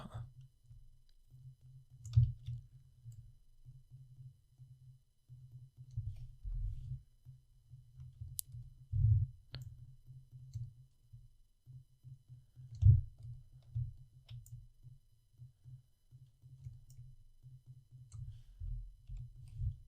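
Faint, sparse clicks of a computer mouse during 3D modelling work, single and double clicks scattered irregularly over a quiet low hum.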